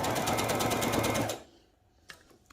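Sewing machine running steadily while stitching a ladies' neck design, a fast, even mechanical whir that carries for over a second and then stops, followed by a couple of faint clicks.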